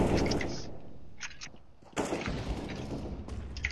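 Gunfire in the video game CS:GO: several sharp shots and short bursts crack out between quieter gaps, fairly close and punchy.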